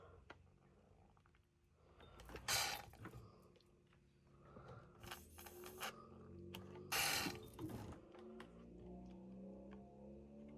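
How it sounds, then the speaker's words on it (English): A Pacesetter XL731 sewing machine is turned slowly by hand, giving quiet close mechanical clicks, ratcheting and gear whirs in uneven bursts, a few louder scraping rasps, and no talk. "I'm turning the machine to see where it needs some oil"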